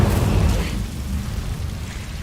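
An Incendio fire spell cast in Hogwarts Legacy, a loud roaring whoosh of flame with a low rumbling burst that fades over about two seconds.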